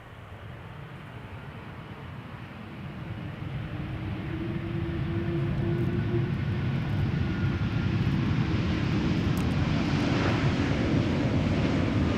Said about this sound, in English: Iberia Express A320 behind it, already visible, arriving from Madrid